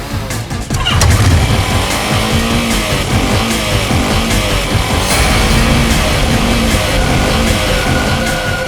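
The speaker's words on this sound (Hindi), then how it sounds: "बाइक खुद बोल रही है, ये वही बाइक थी।" A motorcycle engine running loud and close, its revving rising and settling in a continuous rough roar with no voices over it.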